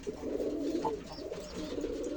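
A pair of pet pigeons coos softly and steadily, a low, rolling murmur that carries on without a break, with no other sounds over it.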